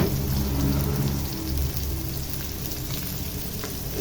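Sweet white onions fry in a pan with a steady, close crackling sizzle like light rain, continuous and fairly loud throughout with no talking.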